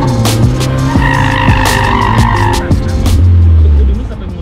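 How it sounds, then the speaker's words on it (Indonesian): A car drifting on a track, its engine revving loudly while the tires skid and squeal in long screeching bursts, with faint voices underneath. "Begitu kamu start, mobil kan akan start sliding, start drifting."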